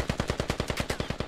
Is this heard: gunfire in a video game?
yes